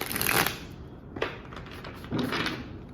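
Tarot cards are shuffled in a few quick riffling bursts, close and crisp, with short pauses between each shuffle and no talking.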